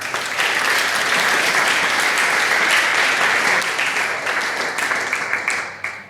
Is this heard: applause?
yes